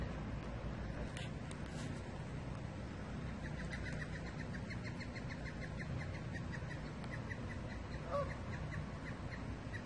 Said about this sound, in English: There are about 50 geese out here